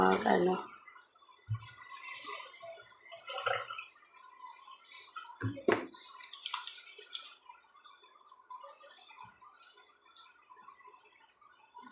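Brushing teeth with a toothbrush during a daily morning routine, scrubbing bursts and gargle-like sloshes coming close and intermittent, separated by quiet gaps.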